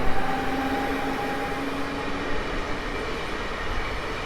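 A Koleje Mazowieckie airport train bound for Modlin pulls away from Warszawa Zachodnia station at night, a steady rumble of rolling wheels with a faint tonal whine that fades out, heard fairly close and without any voices.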